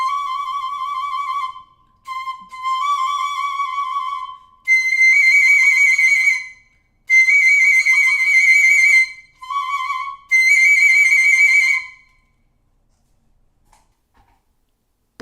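A Trevor James 5XSP flute plays trills on its trill keys in several bright, rapidly fluttering phrases separated by short pauses, clear and close, ending in silence.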